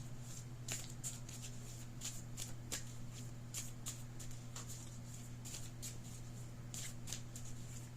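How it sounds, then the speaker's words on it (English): A Moonology Oracle deck of cards is shuffled in a series of soft, quick riffling bursts. They repeat irregularly over a quiet, steady background hum. "Now let's move on to the Moonology Oracle deck."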